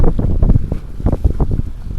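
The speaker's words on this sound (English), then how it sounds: "sitting in the wind tonight," Steady wind buffeting and rumbling on the microphone outdoors at night while walleye fishing in blizzard conditions, a continuous low roar with gusty swells and no talking.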